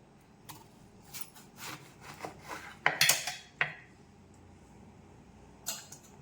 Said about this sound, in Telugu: ఇప్పుడు దోసకాయ కట్ చేసుకుందాం